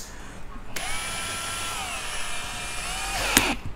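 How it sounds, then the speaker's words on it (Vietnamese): A RIDGID Octane cordless drill set to screwdriving mode runs at a steady whine for about two and a half seconds, its pitch dipping slightly as it holds speed, then stops with a brief click, close and fairly loud. "để em chuyển sang chế độ bắt dít đi ha"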